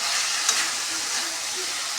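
Tomatoes land in a hot pan and fry with a loud, continuous close sizzle that holds steady throughout, with a brief scrape near the start.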